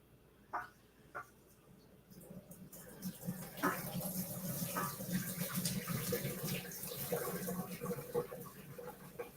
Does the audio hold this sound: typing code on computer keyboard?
no